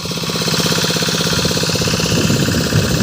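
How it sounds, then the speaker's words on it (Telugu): A boat engine drones loud and steady on a ride out to an island, a continuous throbbing, knocking mechanical rumble close by with no pauses. "సో బోట్ రైడింగ్ అయితే ఎక్కినాం"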